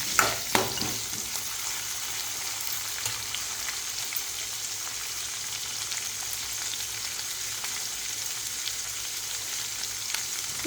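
Whole peeled shallots and garlic sauté in a pan for a village-style dry fish curry, producing a dense, continuous, rain-like sizzle that stays loud and steady throughout, with a couple of stirring knocks at the start and no voices.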